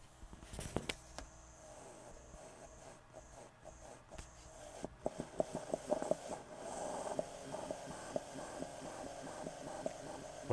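An Audio Technica AT-PL2D turntable with a speed fault runs right after its bronze bushing is oiled, giving a low steady hum with soft, irregular mechanical ticks and clicks close by, no voices.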